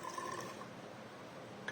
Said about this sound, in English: now I am going to add some 200 milliliters of water